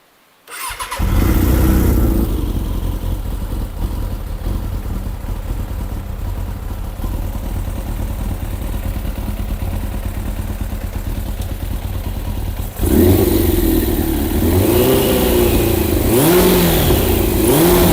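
A Suzuki RF900R motorcycle engine cranks and catches after a short silence, then settles into a loud, rough idle before revving sharply upward near the end, close and unaccompanied by voices.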